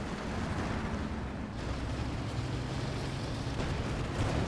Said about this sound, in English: That's the rocket calling. The rocket barrage.